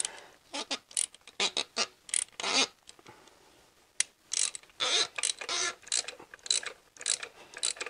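A ratchet works a seized spark plug back and forth, giving bursts of rapid clicking pawl chatter separated by short pauses, close and moderately loud.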